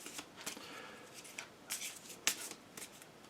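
Quiet riffle and flick of alien cards being shuffled into a deck for the board game Alien: Fate of the Nostromo, a series of soft papery bursts close by.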